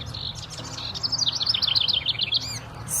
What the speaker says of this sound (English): Birds are singing at the top of their lungs looking for a mate.